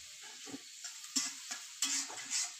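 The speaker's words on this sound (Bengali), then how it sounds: "আমার এগুলো ভাজা ভাজা হয়ে আসছে, আর একটু ভাজতে হবে।" Banana flower cutlets fry in a pan, a soft oily sizzle broken by several short clicks and scrapes of turning, close but quiet with no talking.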